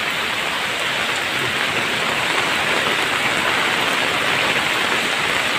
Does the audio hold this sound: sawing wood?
no